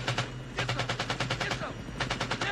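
Rapid machine gun bursts from the 1987 film Full Metal Jacket, loud and close, firing in two long rhythmic volleys with a short gap between them and no talk.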